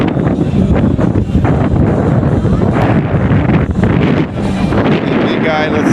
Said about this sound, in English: we're gonna hear some wind in the video